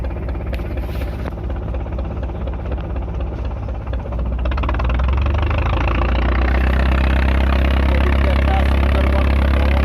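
A trawler boat's engine on a river in the Sundarbans chugs with a steady low rumble that swells louder and heavier in the second half as the boat passes close by.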